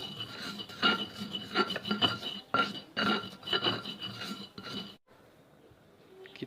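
Garlic, coarse salt and ground coriander are ground for sambal terasi in rhythmic rasping strokes against a mortar, close and clear, ending abruptly in quiet.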